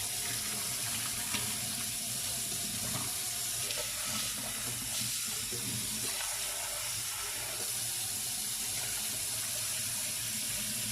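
A cooking pot rinsed under a running kitchen tap, a steady, close rush of water splashing for the whole stretch with no voices.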